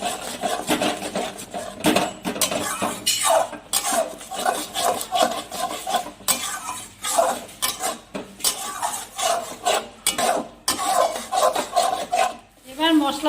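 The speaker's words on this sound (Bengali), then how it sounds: "এবার আবারও একটু ভালো করে কষিয়ে নেব" Spice paste with chili powder scraped and stir-fried in a pan for drumstick curry, repeated rhythmic rasping strokes of a spatula against the metal pan, close and fairly loud, with brief pauses between bursts.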